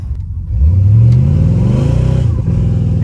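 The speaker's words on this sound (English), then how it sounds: "It just spun the tires." A Chevrolet C4 Corvette, needing new and balanced tires, revs loud and close, its engine note climbing steadily as the tires spin before easing off.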